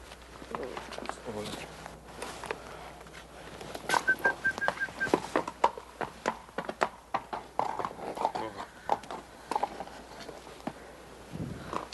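A horse's hooves clip-clop on hard ground in an irregular series of sharp, moderately close strikes, with occasional whistling and faint birdsong in the background.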